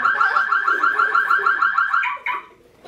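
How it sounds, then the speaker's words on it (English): An electronic alarm blares during a magician's library show, a loud warbling siren-like tone pulsing rapidly for about two seconds before stopping with a short final blip. "So he reached to turn it off, but accidentally set off the alarm."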